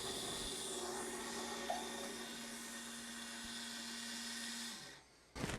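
A grinding wheel works a drill press spindle taper with a steady, close, whining machine hum that holds for several seconds, then dies away, followed by a brief clatter.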